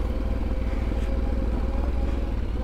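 A Yamaha Ténéré 700 rolls down a forest track under braking, its engine a steady low, close rumble with light clatter throughout and no rising revs.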